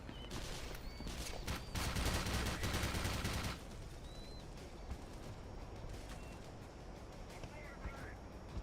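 Dense bursts of rapid gunfire in the video game Black Mesa, shooting from above, rattle loudly for about three seconds before breaking off into quieter in-game ambience with a few faint scattered noises.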